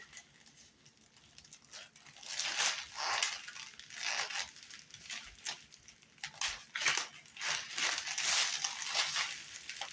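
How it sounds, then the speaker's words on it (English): Adhesive tape pulled and wrapped around a small wooden charcuterie gift board, with intermittent crinkly ripping and rustling bursts that grow denser toward the end, close by, and no talking. "I take the tape and I'll go on and run it around."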